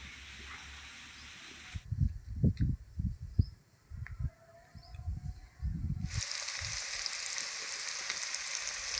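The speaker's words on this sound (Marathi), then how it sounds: "इथे आपण कापलेला कांदा, कोथिंबीर, लसूण पात आणि सर्व मसाले एकत्र कढईमध्ये छान परतून घेऊया" Chopped onion, coriander, garlic greens and spices sizzle and stir in hot oil in a wok, with bursts of loud hissing and scraping strokes, a quieter pause, then a steady bright sizzle.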